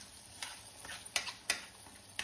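A spoon stirs banana slices sautéing in semolina (rava) for sheera over a low flame, giving four or five soft, separate clicks and scrapes against a quiet background.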